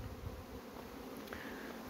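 A low, steady insect buzz of honeybees on a hive box in cold weather hums faintly and continuously, like many bees droning together at close range, with no voices.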